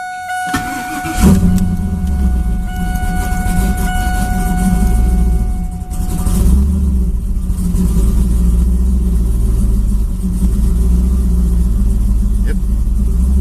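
A turbocharged Camaro with a new intake fires up with a starter whir, then settles into a loud, rumbling idle with a few blips, running close and steady throughout.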